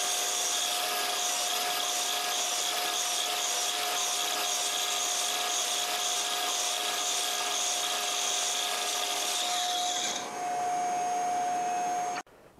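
A saw cuts three slots into a piece of wood in a fast, even back-and-forth rasp, with a steady whine running under the strokes. The cutting stops abruptly near the end.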